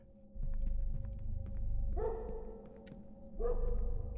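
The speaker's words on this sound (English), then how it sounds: "Doggos." Dogs bark in the Jawbreaker video game, a few loud, rising barks spaced apart over a low steady hum, close and clear with no talking.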